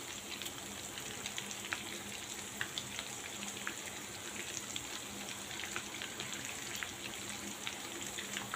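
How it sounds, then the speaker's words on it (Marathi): Green chillies fry in hot oil, a faint, continuous crackle and sizzle with scattered small pops throughout. "मी 2 प्रकारच्या मिरच्या फ्राय केलेल्या आहेत, एक लांबड्या आणि या अशा जाडवाल्या."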